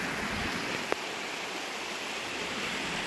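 Water pouring from a ram pump outlet into a watering can, a steady close hissing splash with one brief tap partway through, continuous with no talk.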